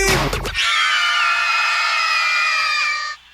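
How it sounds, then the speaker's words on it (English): A crowd screams on request during a podcast episode, a loud sustained wall of high-pitched shrieks lasting about three seconds after a brief burst of noise, then cutting off abruptly. "Somebody scream."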